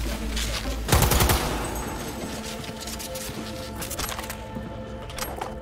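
Automatic weapon fire in the video game Cyberpunk 2077, rapid bursts of close shots with a loud volley early on, then scattered sharp reports over a steady game hum.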